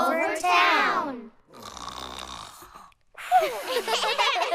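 A voice imitates a man's loud snoring, with long rasping snorts and a wheezy exhale between them, close and loud, ending in a burst of lively vocal noise.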